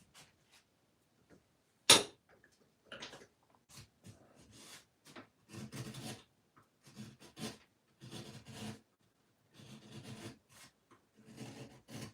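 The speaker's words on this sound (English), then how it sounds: "Now I'm using a flat gouge." A flat gouge, essentially a skewed chisel, undercuts carved wood leaves with soft scraping and rasping strokes in irregular bursts, one sharp tap early on, close and fairly quiet.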